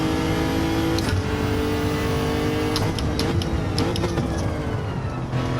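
A modified Toyota Crown Athlete with a roll cage accelerates on a race track, its engine a loud, continuous close-up drone with steady harmonic whine and slight pitch shifts, with no voices.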